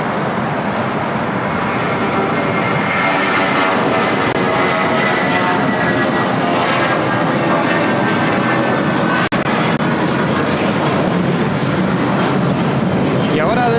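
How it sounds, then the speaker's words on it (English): An Airbus airliner on its takeoff roll down the runway, bound for Guadalajara at LAX, gives a loud, steady broadband engine roar that holds throughout, with people talking over it. "Y ahora despegando de la pista, viva Airbus."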